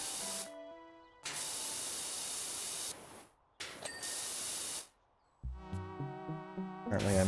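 Pressure washer jets spraying in the video game PowerWash Simulator: loud, steady broadband hissing bursts that start and stop abruptly, separated by short gaps, then a stretch of tonal game music or chimes near the end.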